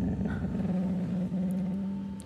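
A husky growls low and continuously at close range, a rough, rumbling snarl that holds steady for a couple of seconds, with a faint higher whine at the end.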